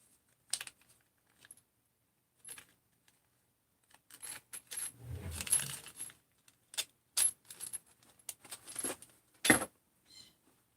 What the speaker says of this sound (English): I'm gonna put your case bolts in here